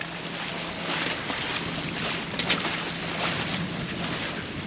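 Steady rushing wind noise aboard a boat motoring between Antigua and Guadeloupe, a broad close hiss with faint buffeting gusts and a low engine hum underneath.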